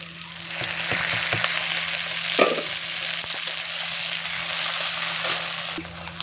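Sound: onion, chopped tomato and chili frying in oil in a wok

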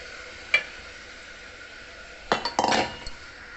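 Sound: adding washed rice and lentils into a cooking pot

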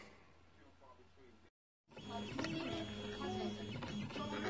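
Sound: Eleksmaker CNC laser engraver running

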